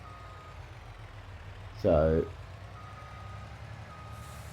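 A single short, tonal reversing beep sounds from a truck in Farming Simulator 22, standing out over a low idling engine hum, with a brief spoken word nearby.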